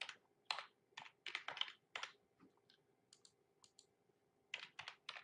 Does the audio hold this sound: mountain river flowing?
no